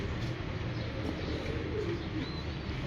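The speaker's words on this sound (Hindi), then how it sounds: "कबूतर ही अच्छा है" A pigeon coos softly over a muffled, noisy background, a low gentle coo that sits under the general hum and is faint rather than close.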